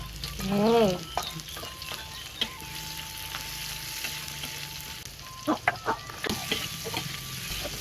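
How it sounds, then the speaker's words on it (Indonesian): Spice paste for village-style sambal frying in a pan makes a soft, quiet sizzle broken by light stirring taps, while a chicken clucks nearby. "bumbune digoreng"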